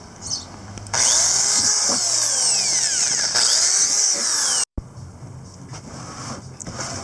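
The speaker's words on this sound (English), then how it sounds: "I'm now going to start drilling holes all the way around." A power drill bores aeration holes around the sides of a plastic worm-farm container, giving a loud, steady high-pitched whine that ramps up and winds down in two long runs before a brief stop.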